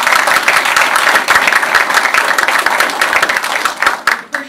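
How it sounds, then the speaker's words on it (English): An audience at a chamber of commerce event applauds, dense continuous clapping from a crowd that is loud and close, then tapers off toward the end. "Let's give David a big round of applause."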